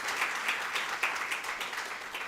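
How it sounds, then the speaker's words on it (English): Applause from the audience at a medical conference in Nagpur, a brief, even burst of many people clapping at a moderate level, with no talking. "A big round of applause for him"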